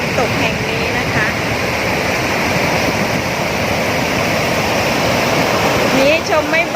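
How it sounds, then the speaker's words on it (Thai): A waterfall fed by overflow released from the Huai Khi Lek reservoir at Nikhom Kham Soi roars as a loud, constant rush of falling water, with a voice briefly audible near the end. "ต้องเป็นช่วงที่น้ำหลากนะคะน้ำล้นอ่างห้วยขี้เหล็กแล้วก็มีการระบายน้ำมาที่จะก่อให้เกิดน้ำตกแห่งนี้นะคะ"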